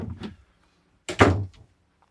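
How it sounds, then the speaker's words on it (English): A cabin door closing aboard an Ocean Alexander 50 trawler yacht, a single solid thunk in the owner's stateroom, near and fairly loud, preceded by a faint soft knock. "I closed the door as I came in just to show you the privacy here."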